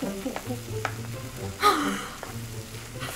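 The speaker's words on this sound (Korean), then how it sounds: "그래서 이제 물이 없어질 때까지 볶아주기만 하면 돼." Ramen fried rice with egg being stir-fried in a pan, with soft sizzling, scraping and tapping of a utensil, and a brief louder hiss midway.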